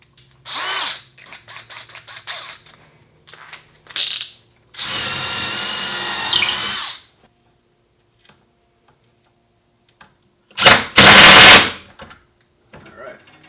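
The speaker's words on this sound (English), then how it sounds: "I'm going to be using a 7/32 drill." Several bursts of a power drill whirring with a 7/32 bit, each lasting a second or two, with quiet pauses and small clicks between, fairly close, while mounting a bike rack.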